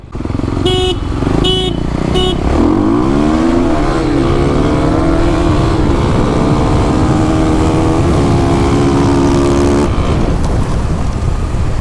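A 2021 Kawasaki KLX300 dirt bike and an uncorked 250 roll race side by side, their engines rising and falling in loud, overlapping revs through the gears, with a few short horn-like blasts at the start.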